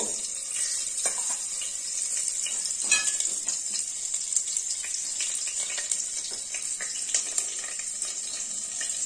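Green chillies sizzling in hot oil for a mutton paya soup, a bright continuous hiss with a few soft clicks of a stirring spoon against the pan, close and steady with no voices.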